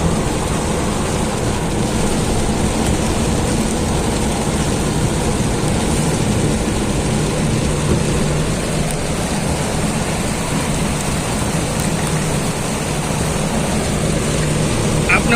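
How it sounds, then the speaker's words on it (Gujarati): Heavy downpour with thunder in Jetpur, Rajkot district, heard from inside a car: a loud, steady wash of rain noise fills the whole stretch, with a deep rumbling low end throughout and no clear separate thunderclaps. "ગાજવીજ સાથે જે વરસાદ જે વરસી રહ્યો છે"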